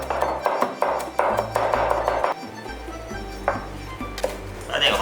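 A knife chops garlic on a board in quick bursts of sharp, close taps, a rapid run of strikes followed by slower, scattered chops.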